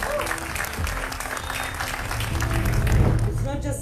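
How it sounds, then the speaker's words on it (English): An audience breaks into applause after a speaker at a technology industry event in Malta, a full steady wash of clapping that swells a little near the end, with some voices mixed in. "let's give a round of applause to the"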